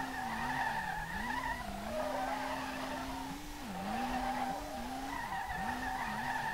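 Car drifting through a tight track in the SLRR video game, tires squealing and skidding in repeated wavering bursts over a continuous engine drone, loud and close with no talk.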